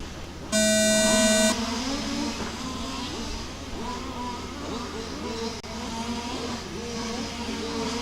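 A shrill start tone sounds for about a second, then race cars at Warm Springs rev and roar off the grid, several engines snarling and overlapping at moderate distance.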